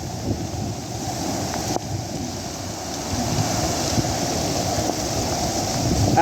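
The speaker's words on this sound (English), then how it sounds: "it's like a beach. Look, there's waves and stuff" Flash flood water in Phoenix surging with waves, a steady broadband roar of rushing water and wind that slowly grows louder over several seconds, with no speech.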